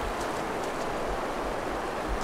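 Waterfall in the Far Cry Primal game, a dense, steady broadband splashing hiss of falling water, close and continuous with no talk.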